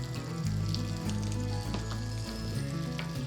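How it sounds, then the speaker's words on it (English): Chopped celery sizzles steadily in a pan over very low heat for a plant-based soup, a close continuous frying hiss with a low background hum and no talk. "Just going to cover it and saute it for a few minutes."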